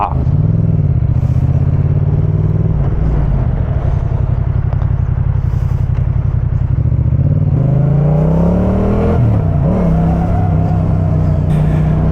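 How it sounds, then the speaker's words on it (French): Motorcycle engine on a first ride, loud and close throughout, with light throttle blips that make the pitch rise and fall, especially toward the end. "je fais des petits coups de gaz des légers"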